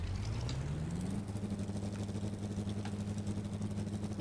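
A tank engine in a video game rises in pitch, then settles into a steady, quiet, low mechanical drone.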